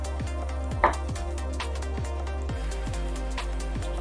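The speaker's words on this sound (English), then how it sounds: "Let's go ahead and mince it up and make it nice and fine." A knife finely minces ginger on a board in quick, steady, faint taps over a constant low hum, with no talking.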